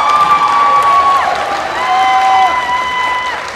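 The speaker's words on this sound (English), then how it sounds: "A round of applause for all of them. Come on, let's hear it." Pageant audience applause and cheering for contestants, a steady crowd roar with whistles and shouts layered over continuous clapping at close range.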